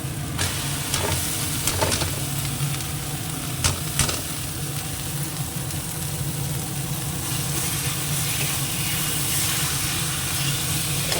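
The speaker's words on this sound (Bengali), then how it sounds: "মাছটা কষানো হয়ে গেছে তেল ছেড়ে দিয়েছে এবার কিমাটা দিয়ে দেবো" Minced meat is stir-fried in a pan of oil alongside fish, a loud, steady sizzle and hiss with intermittent scraping stirs and a few sharp clicks throughout.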